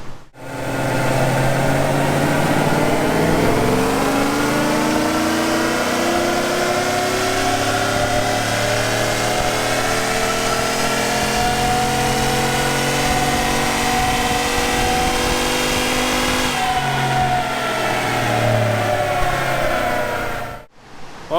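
Truck engine fitted with a Texas Speed Stage 2 cam and ported heads, running on E85 during a dyno pull, revs loudly and steadily for about twenty seconds, its pitch climbing through the pull before dropping off at the end.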